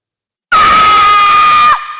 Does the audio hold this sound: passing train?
no